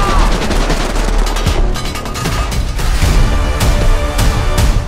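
Dense, loud bursts of automatic gunfire and rapid shots in a film trailer for a war action movie, overlapping continuously with booming impacts throughout.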